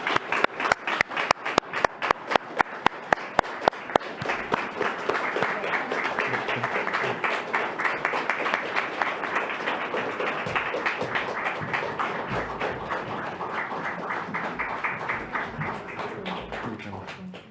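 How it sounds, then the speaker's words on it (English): Audience applause closes a European summit in Prague, starting as a few sharp, separate claps and quickly swelling into dense, sustained clapping from a large room that continues steadily to the end. "Ladies, you deserve a huge applause"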